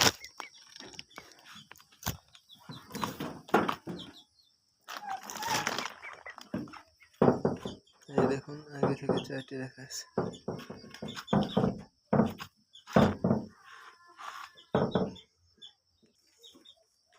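Chickens on a small farm cluck and chirp intermittently while someone talks over them nearby, with bird calls mixed in between his phrases.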